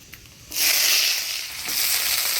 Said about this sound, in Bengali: এবার ফোড়নে দিয়ে দেবো কালো জিরা শুকনো লঙ্কা দিয়ে দেব